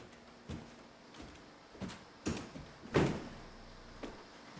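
A door swinging shut on a theatre stage during a performance of Wait Until Dark, with several soft knocks and thumps building to one firmer closing thud, then a lighter knock, and no talking.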